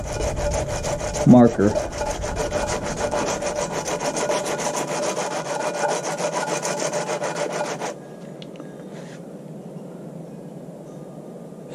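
Sanding the metal spine of a knife, a steady rasping scrape repeated in quick strokes for about eight seconds, then stopping abruptly to quiet background hiss, with a brief word spoken near the start.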